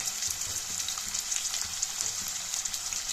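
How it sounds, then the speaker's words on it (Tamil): Small onions sautéing in hot oil for prawn thokku give a steady, close sizzling hiss with faint crackles, continuous and without talk. "இது நல்லா ஒரு ரெண்டு மூணு நிமிஷத்துக்கு எண்ணெயிலே வதக்கி விடலாம்"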